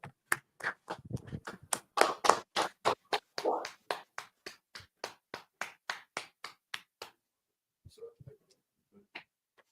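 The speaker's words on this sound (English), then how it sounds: "Clap it up." A classroom group claps in a crisp, evenly paced run of single handclaps that continues for several seconds, then stops, followed by faint scattered sounds and brief low voices.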